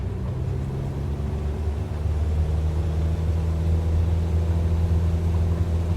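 A light aircraft engine at full throttle in a flight simulator during a touch and go, a steady close drone with strong low harmonics that holds even and loud throughout.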